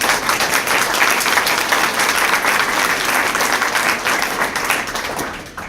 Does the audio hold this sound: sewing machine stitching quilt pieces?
no